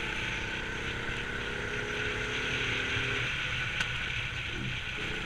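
Go-kart engine drones steadily on a race track, a continuous buzzing whine holding roughly even in pitch and loudness with a brief mechanical blip near the end, heard from on or near the kart.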